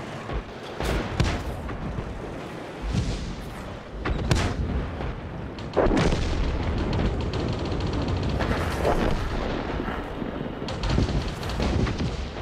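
Tank cannon fire and battle noise in the video game World of Tanks: heavy booming blasts and dense rumbling gunfire, loud and continuous, with sharp reports breaking through the din and no talk over it.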